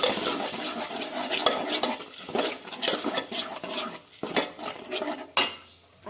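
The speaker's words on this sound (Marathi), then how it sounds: "चांगले तेलात व्यवस्थित परतून घ्यायचे." Masala stirred in oil in a metal pan with black masala, salt and chickpeas, a spoon scraping and clinking against the pan in busy irregular strokes over a faint sizzle, close and loud, no talking.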